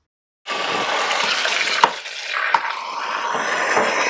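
Dyed flax roving being rinsed in cold water: a steady rush of running water begins after a brief silence and continues throughout, with a couple of faint knocks partway through.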